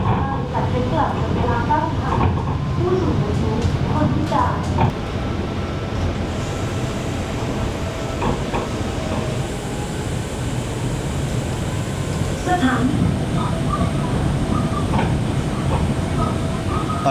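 MRT Pink Line monorail train riding toward Lak Si, a steady loud rumbling hum of the car in motion throughout with faint rattles and clicks, no talk.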